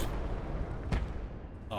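Heavy tank gun firing in the World War II game Gates of Hell: a single sharp, loud boom in the middle of a steady rumbling battle background, followed by a brief tonal burst at the end.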